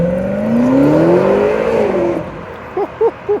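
A 2024 BMW X6M in Brooklyn Grey on 22-inch M wheels revving its exhaust: a long rising and falling engine pull, then three short, sharp blips of the throttle close up, with no talk.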